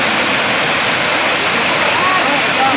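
The Gagangiri Maharaj waterfall at Khopoli in the monsoon rain roars loud and close. Faint voices rise now and then beneath the constant wash of water.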